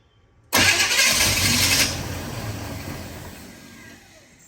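A 1984 Chevrolet K10 4x4 truck engine cranks and catches briefly with a loud close burst of roaring, then drops to a fading rough run over a few seconds, with no talk.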